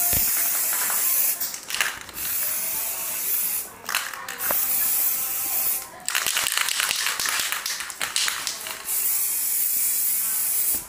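Samurai spray paint hisses from an aerosol can during a second coat of a DIY repaint, in several close, steady bursts of a few seconds each separated by short pauses.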